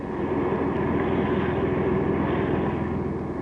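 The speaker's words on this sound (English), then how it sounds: "The invasion craft were attacked by more than 30 Japanese planes." More than 30 Japanese warplanes attack invasion craft off New Britain: a steady, loud roar of aircraft engines drones continuously without a break, with no voices over it.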